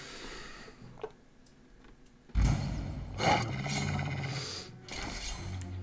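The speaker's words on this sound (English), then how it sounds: "Sounds like wolves." Wolves in the video game Pathfinder: Kingmaker growling and snarling in rough, rumbling bursts, fairly close over low game ambience.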